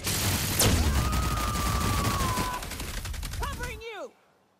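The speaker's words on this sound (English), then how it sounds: "she shot him into dust" Rapid bursts of gunfire from The Outer Worlds video game crackle densely for several seconds, mixed with game effects and a rising tone, then cut off abruptly into near silence.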